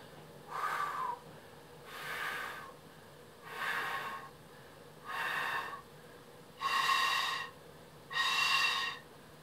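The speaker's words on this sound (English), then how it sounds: "I'm just starting to hear now my breath has hit the side of the Kōauau" Six soft, airy breathy tones from a kōauau, a Māori flute, blown across its edge, each about a second long and separated by short pauses, quiet and close.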